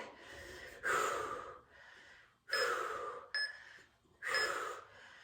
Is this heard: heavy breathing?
yes